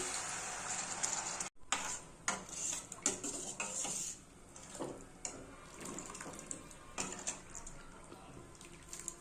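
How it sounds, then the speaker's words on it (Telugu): Water poured into a pan while making upma, one cup of semolina to two cups of water, with clinking pot and utensil knocks and a steady pouring wash running throughout, close and moderately loud. "ఇప్పుడు దీనిలో 1 కప్పు రవ్వకి 2 cups వాటర్ యాడ్ చేస్తున్నాను."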